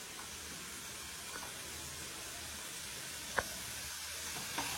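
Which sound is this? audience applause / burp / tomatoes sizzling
tomatoes sizzling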